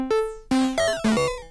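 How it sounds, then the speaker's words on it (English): A synth passed through Ableton Redux bitrate reduction plays three or four short plucked notes, each with a buzzy, gritty decay, clear and alone. "let's say I wanted to reduce the bitrate with a redux"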